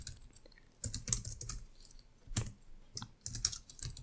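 Typing on a computer keyboard while writing Rust code, with irregular bursts of close, crisp key clicks separated by short pauses, no voices.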